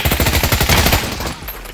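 Rapid burst of automatic gunfire in the VR game Pavlov, a quick rattling string of shots into a container that stops abruptly, leaving a short quiet tail.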